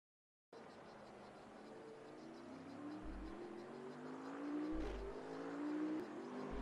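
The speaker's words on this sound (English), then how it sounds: "It's Thijs Dendo in the Bentley. He rolls out of the pit lane now." A Bentley GT3 race car rolling out of the pit lane at Laguna Seca in Assetto Corsa Competizione, its engine note rising steadily through gears after a short silence, growing louder toward the end.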